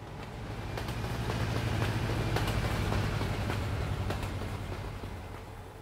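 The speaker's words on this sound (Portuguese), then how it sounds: "O trem passando do lado aí." A train rolls alongside the road in a driving video game set around Lamar, Colorado, giving a steady low rumble that swells and fades over several seconds with faint clicks of the wheels, and no one speaks.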